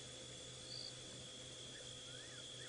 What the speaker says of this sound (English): A couple of crickets.